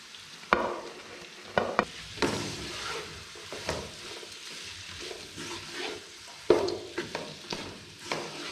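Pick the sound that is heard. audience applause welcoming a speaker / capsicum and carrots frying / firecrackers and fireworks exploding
capsicum and carrots frying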